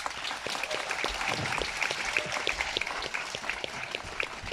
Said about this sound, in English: So if you can give them a round of applause, please.